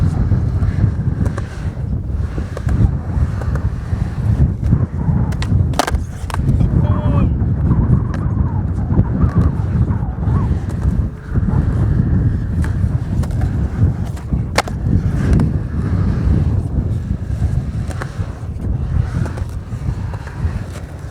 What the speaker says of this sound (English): Now we're gonna do the Grail of 3 flips and see how that goes.